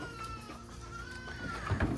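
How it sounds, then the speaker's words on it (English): Goats bleating close by, one long wavering cry followed by rougher overlapping bleats as a second call rises near the end. "sorry, easily distracted by goats."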